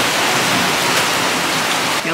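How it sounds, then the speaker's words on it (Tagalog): Heavy typhoon rain with wind during Typhoon Kristine in Laguna, a dense, loud, continuous roar of downpour filling the whole stretch. "Grabe, ang lakas naman ng ulan."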